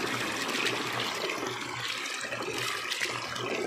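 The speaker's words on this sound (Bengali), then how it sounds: "আবার জল দিয়ে একটু ধুয়ে নেব এই ধুয়ে পুরো পরিষ্কার করে নেব" Soaked biri kalai lentils are rinsed in water, a steady close splashing and sloshing that runs throughout without pause.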